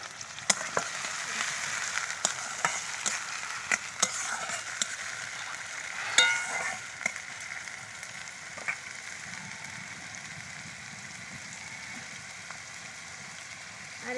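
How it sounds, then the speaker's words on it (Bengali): Finely chopped onions frying in hot oil with a steady, dense sizzle throughout, broken by occasional stirring clicks and scrapes in the pan, no talking. "আমার এখানে তেল গরম হয়ে গেছে আমি দিয়ে দিচ্ছি পেঁয়াজ কুচি"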